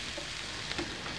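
Carrot and onion sizzling as they fry in a pan for a burbot liver pâté, a steady close crackling hiss with a faint soft clink partway through.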